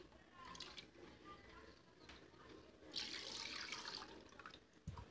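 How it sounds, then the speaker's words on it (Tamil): Water runs and splashes as it is poured into a chili-powder fish curry mixture for Tamil fish kolambu, a steady trickle with a louder gush partway through, heard close up while a person talks quietly over it. "தண்ணி ஊற்றியாச்சு"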